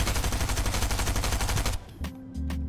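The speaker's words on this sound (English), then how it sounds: "We got a shotgun. Bro, the shotgun's so slow!" Rapid gunfire in Fortnite Chapter 3 during a shotguns-only match, a dense burst of loud cracks followed by a few separate heavy shotgun blasts with brief gaps between them.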